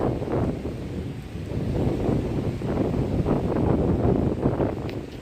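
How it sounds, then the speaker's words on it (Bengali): Gusty wind buffets the microphone in a steady roar during a storm in the Sundarbans, with a rough rushing texture of rain mixed in. "বাতাস বয়ে চলেছে আর সেই সাথে বৃষ্টি শুরু হয়ে গেছে"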